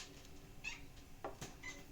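A cat meows a few times, short faint calls spaced apart over a soft background hiss.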